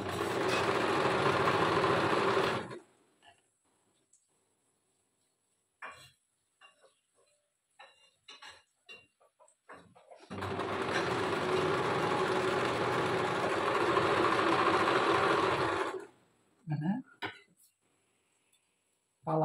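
A sewing machine sews a one-centimetre seam on the sleeves of an Uzbek-style garment in two long, steady, close runs, separated by a quiet stretch of clicks and fabric handling.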